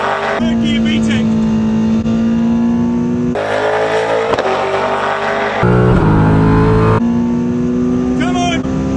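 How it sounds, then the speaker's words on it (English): Race car engine revving hard through the gears with VTEC engaging in third: a loud, sustained high-pitched howl that climbs, drops at each shift and climbs again, close and continuous. Brief voices can be heard over the engine. "Third gear VTEC."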